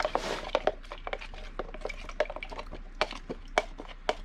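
Sourdough starter stirred into water in a container: wet sloshing and dripping with light taps of a utensil against the container, close and fairly quiet, in irregular strokes.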